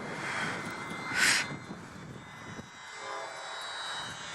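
Small UMX Pitts RC model airplane engine buzzing at full throttle while battling strong wind, a thin, steady distant whine with a brief louder surge and wind noise throughout.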